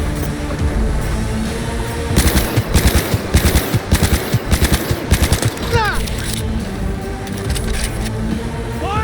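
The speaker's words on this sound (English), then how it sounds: "Firing at close range!" Close-range automatic gunfire in Cyberpunk 2077, with rapid loud bursts packed together over a few seconds, set against a steady ambient bed and followed by fainter scattered shots.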